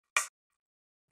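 A single short, bright percussion hit from a drum sample for a song, cracking once near the start and cutting off quickly into silence.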